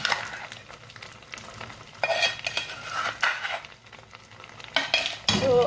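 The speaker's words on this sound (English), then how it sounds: "So I'm also going to give it a quick stir and let this cook for 2 minutes." Chopped okra fries in a pot for fried okro soup, a soft sizzle beneath bursts of metal spoon scraping and clinking against the pot as it is stirred, with no voices.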